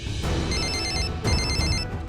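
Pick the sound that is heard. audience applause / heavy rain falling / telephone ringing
telephone ringing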